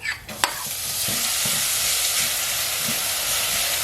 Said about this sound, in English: Nyt laitan chili ja sipulia.